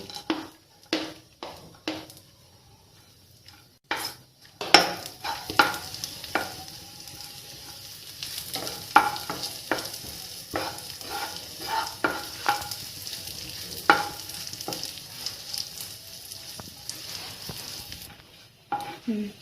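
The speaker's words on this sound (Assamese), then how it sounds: "এতিয়া মই এই বাদামখিনি, পিচি থোৱা বাদামখিনি অকণমান ভাজি ল'ম ঘিউতে।" Crushed nuts fry in ghee while a spoon stirs them, close scraping strokes and clinks of the utensil against the pan repeating irregularly over a soft sizzle, with short quieter gaps between bursts and no talk.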